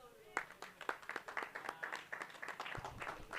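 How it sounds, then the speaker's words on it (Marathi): Faint, distant rhythmic clapping from spectators at a village cricket tournament match honours a cricketer, with a string of evenly spaced claps running throughout. "यशवंत हुंबरेसाठी जोरदार टाळ्या वाजवायच्या आहेत."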